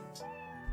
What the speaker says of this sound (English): Sorry, it's my cat. It must be supper time.